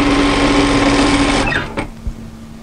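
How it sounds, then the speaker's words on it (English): A sewing machine stitches a 1 cm side seam on a draped tee dress, running steadily and loud for about a second and a half before stopping, followed by a couple of soft clicks and handling noises. "then we're going to sew up the side seam in a 1 cm 3/8 of an inch seam"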